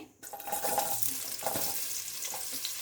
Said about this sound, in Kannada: ಇದನ್ನು ಚೆನ್ನಾಗಿ ಫ್ರೈ ಮಾಡ್ಕೊಳ್ಳೋಣ. ನೋಡಿ, ಇದೀಗ ಫ್ರೈ ಆಗ್ತಾ ಇದೆ.